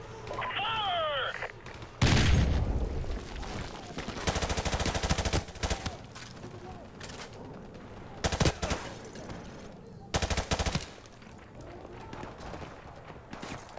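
Gunfire in the video game Call of Duty Remastered: several loud bursts of rapid shots, separated by quieter stretches with a voice briefly heard.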